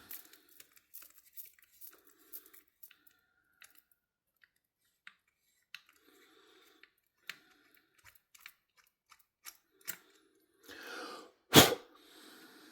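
A screw being backed out of a CJRB Prado folding knife, working loose thread-locker: faint, scattered small clicks and ticks close up, ending in a brief louder rustling burst.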